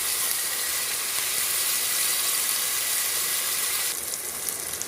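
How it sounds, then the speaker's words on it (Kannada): Tomato, green chilli and ginger frying in a pan, giving a steady broadband sizzling hiss throughout that thins slightly near the end, no talking. "ಇದು ಸ್ವಲ್ಪ ಫ್ರೈ ಆಗಬೇಕು."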